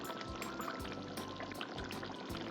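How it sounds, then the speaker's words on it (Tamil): Fish is added to a boiling tamarind fish curry made with raw mango, giving faint, continuous bubbling and liquid splashing sounds close by. "இப்போ மீன் சேர்த்துக்கலாம்"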